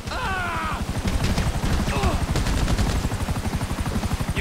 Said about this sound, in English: Chopper! Right behind us!